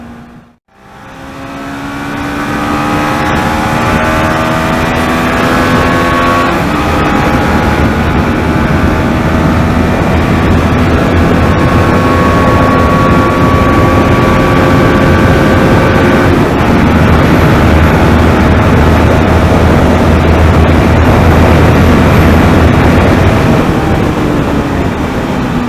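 An Apache RR 310 motorcycle at high speed on a highway above 150 km/h, its engine droning loudly and continuously with rising harmonic whine under heavy wind rush, close and unbroken for the whole stretch.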